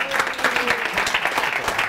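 A short burst of audience applause at a relational-intelligence conference, dense clapping from a room full of people, fairly loud and steady for about two seconds.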